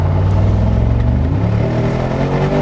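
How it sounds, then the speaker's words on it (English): A 2026 Mercedes G63 AMG roars loudly under hard acceleration in manual mode, its deep exhaust note rising steadily with the window down, close and alone with no talk. "Let's drop the window so you can hear this thing roar."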